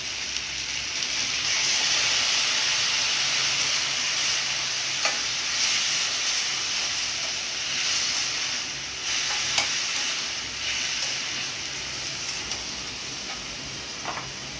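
Ridge gourd and potato frying in a pan with poppy seed paste, giving a loud, continuous hiss and sizzle with occasional stirring taps.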